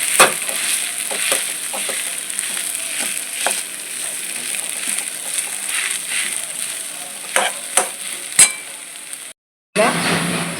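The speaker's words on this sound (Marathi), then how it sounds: "राई जिऱ्याची फोडणी देऊ" Mustard seeds and cumin sizzling in hot oil for tempering, a bright steady crackle with scattered pops and a few clinks of a spoon, cut by a brief gap near the end.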